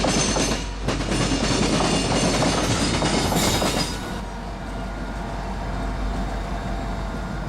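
Three CSX light engines, including CSX 8581, rumble past close by on track 1 near Baldwin, Florida, with rattling wheels and a metallic screech, loud at first, then easing into a steady lower rumble as they move on.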